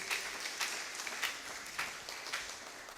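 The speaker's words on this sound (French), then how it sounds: "Tobeteni nkolo maboko makasi." A church congregation clapping hands in praise during a worship service, a faint, fairly regular beat of claps, roughly two per second, heard at a distance with no clear talk.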